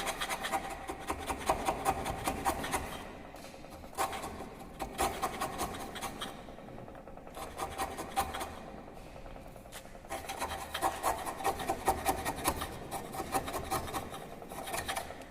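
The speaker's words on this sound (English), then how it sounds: "So better you can take one end of the corner position to you can do the chiseling operation," A chisel works into wood to cut a carpentry T-lap joint, making a steady, close scraping and rasping sound that rises and falls in rhythmic strokes for the whole stretch.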